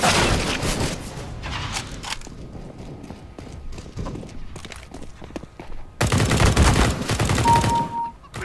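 Rapid bursts of gunfire ring out from the CS:GO video game, dense volleys around the start and a louder flurry near the end, with quieter scattered shots in between.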